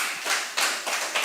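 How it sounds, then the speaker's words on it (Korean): Church congregation clapping during a Friday worship service: a short burst of applause from many hands, three or four quick swells of dense clapping, near and moderately loud, with no talking. "박수 좀 하시라고요"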